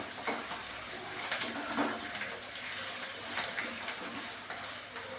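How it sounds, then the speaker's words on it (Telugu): Okra with garlic chili paste fries in oil, giving a continuous, even sizzling hiss that stays moderately quiet and steady throughout, with no speech over it. "మనం నూరుకున్న వెల్లుల్లి కారం ఇది నూనెలో మంచిగా మనకి ఫ్రై కావాలి"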